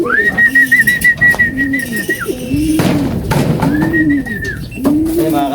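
Racing pigeons at the landing board of a loft during a derby race coo loudly and repeatedly up close, along with a higher drawn-out whistle-like call.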